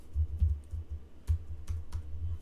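Code is typed on a computer keyboard, a close, quiet run of irregular key clicks with a few sharper taps standing out, alone without talk.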